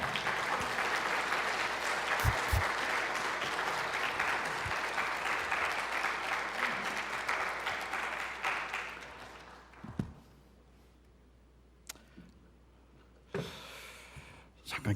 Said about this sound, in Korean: 우리 목사님 나오실 때 큰 박수로 다시 한번 환영합니다.